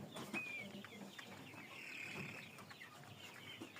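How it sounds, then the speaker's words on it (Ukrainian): Young roosters and a few hens cluck and call softly at a distance, with a couple of brief higher calls standing out over a steady farmyard background. "тут у нас позалишались, можна сказати, майже всі півники вже"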